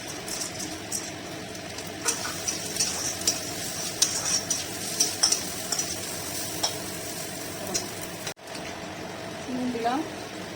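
Red lentils frying in hot oil after fried onion and garlic, stirred steadily with a utensil; continuous close sizzle with scraping stirs throughout, a brief dropout near the end.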